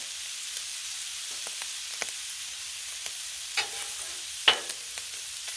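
Shrimp searing on a Blackstone griddle give a quiet, steady sizzle with a few sharp clicks and scrapes of a utensil over the hot surface, no voices.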